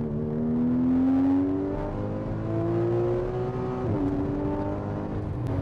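A Porsche Cayman S 981 engine revs hard from close by, its pitch climbing steadily, dipping briefly and then climbing again, loud and with no talk over it.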